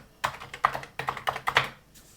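Keys clack on an Atari 1200XL home computer keyboard, about nine or ten crisp close-up keystrokes in quick uneven bursts, with no talking.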